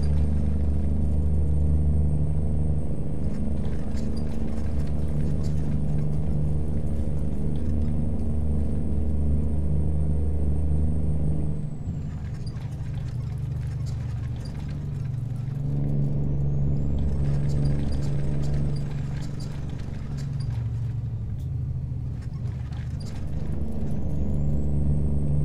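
Heavy truck in the American Truck Simulator game, a deep steady engine rumble with shifting tones as it drives, and faint higher hisses suggesting air brakes, with no talking.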